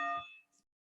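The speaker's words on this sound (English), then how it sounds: "And I'm going to start the bell." A single yoga timer bell rings once, a clear bright ding that fades over about half a second, followed by a faint soft tap, heard alone in a quiet room.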